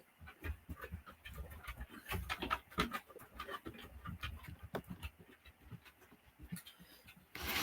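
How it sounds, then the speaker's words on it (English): Faint, close panting and soft whimpers from puppies, in irregular bursts with small scuffling noises. "I have to keep a close eye on these puppies right now."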